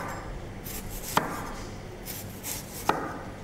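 Knife cutting a giant onion into thin half rings on a board, two sharp distinct chops about two seconds apart over a quiet background.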